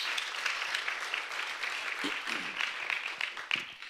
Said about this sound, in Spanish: Si le va a dar un aplauso,